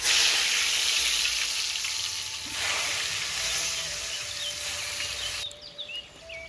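Tofu and tempeh fry in a pan with a steady, loud broadband sizzle and crackle that runs throughout and eases slightly near the end.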